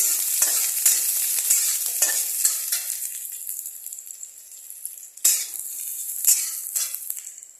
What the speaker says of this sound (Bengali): পেঁয়াজ কুচি দিয়ে এটাকে একটু নাড়ব